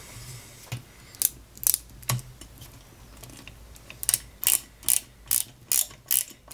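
A screw is tightened on a model 1961 London Routemaster RM857 bus kit, heard as a series of crisp, close ratcheting clicks from a screwdriver, sparse at first and then a rapid regular run of about eight clicks.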